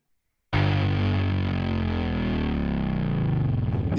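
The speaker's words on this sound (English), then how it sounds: "all I did was just grind the heck out of the level going into the distortion, to get that bend" Heavily overdriven distortion from a signal level pushed hard into a distortion plugin, bursting in abruptly after a short silence and holding as a dense, buzzing, saturated tone with a slowly bending pitch.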